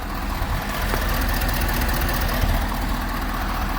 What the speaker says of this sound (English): that's all engine fan noise